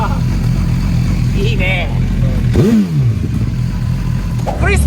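A JDM Nissan Cedric's engine and exhaust give a loud, continuous low rumble close by, with a brief rising rev, while people talk over it.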